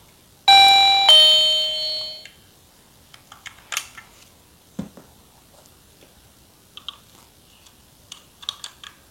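A Flazz motion sensor electronic guest-greeting doorbell sounds a loud, close ding-dong chime, two bright electronic tones ringing out, followed by scattered small clicks and taps.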